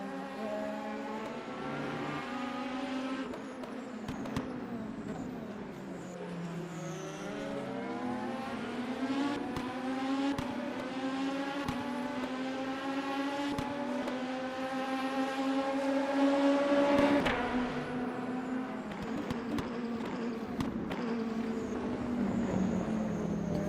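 Race car engines roaring around Laguna Seca in the Le Mans Ultimate racing game, including a vintage Renault, with steady high revving tones that rise and fall through gear changes and swell louder as cars close in.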